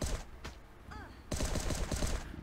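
Gunfire in the survival game Last Day on Earth: a couple of shots, a brief pause with a short tonal sound, then a sustained loud burst of rapid fire.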